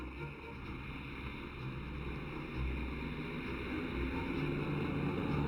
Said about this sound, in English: The 6 twin-cyclone radial engines roared to life, kicking up a vortex of sea spray as the huge bird moved away from the mooring.